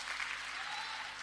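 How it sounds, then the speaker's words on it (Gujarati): Dense crowd applause at an Aam Aadmi Party political rally in Gujarat, a steady roar of many hands clapping close by, loud and unbroken for just over a second. "જોરદાર તાળીઓથી વધાવો એમને"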